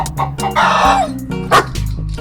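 A small dog barks several times among clucking chickens in a farmyard scene from a film, close and loud, with a low background score running underneath.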